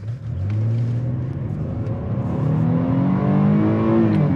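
A 2022 Chevy Blazer RS accelerates hard in all-wheel drive, its engine note climbing steadily and loudly through the revs with a brief dip like a gear change midway, heard alone without talk.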